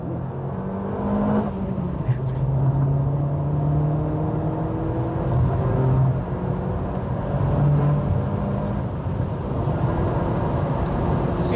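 An Opel Astra H OPC accelerating briskly toward motorway speed, heard from inside the cabin as a steady engine drone with rising tones and a gear change, under road and wind noise.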